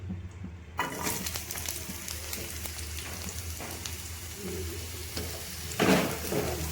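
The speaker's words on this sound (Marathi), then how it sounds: "तेल घालून घेतलं आता ते छान गरम झालं की ह्यात सगळ्यात आधी कांदा घालूया" Chopped onion drops into hot oil with a sudden burst of loud sizzling that settles into a dense, steady crackle, close by and alone, with a brief flare of spitting near the end.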